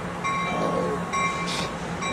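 An Amtrak Surfliner passenger train rolls past the Santa Fe Depot, a steady close rumble of wheels and cars with sustained bright tonal whine throughout and a brief hiss near the end.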